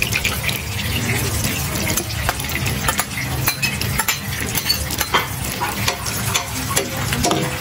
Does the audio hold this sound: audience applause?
no